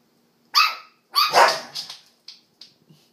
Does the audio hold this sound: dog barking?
yes